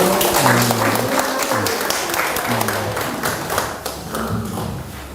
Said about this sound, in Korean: 박수